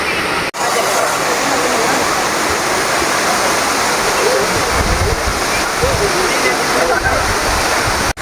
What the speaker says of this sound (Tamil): இந்த குற்றாலம் அருவியில் வந்து தண்ணி வந்து உச்சிலேருந்து வருது